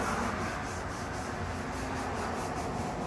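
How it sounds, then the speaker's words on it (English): Wood being sanded with 320 grit sandpaper gives a steady, close scratchy rubbing, the strokes pulsing in a regular back-and-forth rhythm with no talking. "I sanded this down with 180,"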